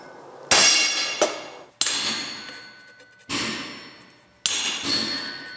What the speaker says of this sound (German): Die feine Linie arbeitet Stefan Zydek anschließend mit einem Kehlhammer nach.